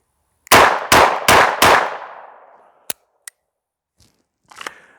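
Four rapid, loud gunshots ring out in a quick string during a shooting drill, each followed by a metallic clang off steel targets, then a decaying tail and a few scattered sharp clinks and a faint rustle.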